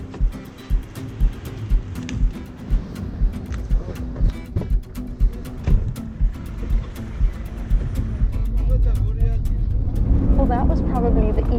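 Low, rumbling engine and road noise inside an intercity bus travelling to Kutaisi, Georgia, with rhythmic bumps and jolts throughout, while people talk over the drone.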